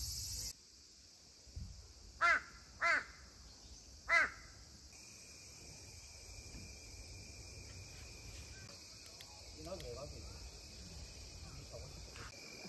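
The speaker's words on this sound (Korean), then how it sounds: "이놈의 매미 새끼들" A steady high-pitched drone of cicadas hangs over a campsite in a Jeju Island forest, with a few loud crow caws near the start and faint background sounds.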